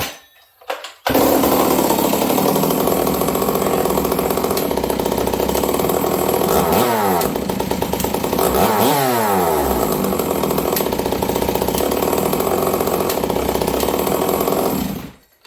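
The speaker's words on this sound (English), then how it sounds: "when I put the chain brake on, hear it start to stumble and want to die at idle" A ported Stihl 038 Magnum chainsaw engine, chain brake on, runs loud and close at idle, roughly steady, with its pitch sagging and wavering twice as it bogs down, then cuts off abruptly.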